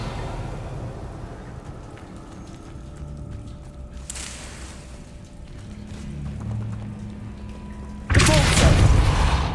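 The Revelio spell in Hogwarts Legacy goes off twice over quiet game ambience: a soft whooshing pulse midway, then a louder, fuller booming shimmer near the end.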